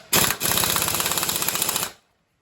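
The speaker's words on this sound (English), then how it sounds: "the only thing I can do is using an impact wrench, and here it's a 22 millimeter, and tighten it up as tight as you can" Impact wrench driving a 22 mm nut onto the alternator pulley of an older Mercedes-Benz, a loud rapid hammering burst lasting under two seconds with a brief stutter near the start, then silence.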